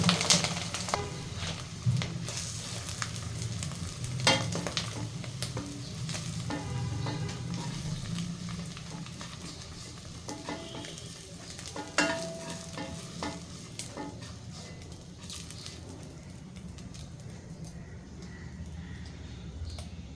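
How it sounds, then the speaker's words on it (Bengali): An egg fries in oil in a frying pan until browned; the oil sizzles steadily, with intermittent scraping and tapping of a spatula stirring. "লাল লাল করে ভেজে দিতে হবে"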